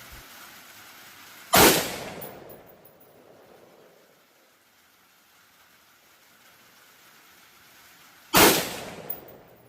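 Two sharp rifle shots from a rifle fitted with a Gunnr Odin 1-10x28 LPVO scope crack out several seconds apart on a range, each loud and followed by a fading echo into near silence.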